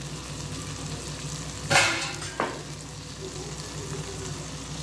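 Oyster masala frying and being stirred in a pan, with a steady sizzle throughout and a couple of brief louder scraping stirs near the middle, close and without talk.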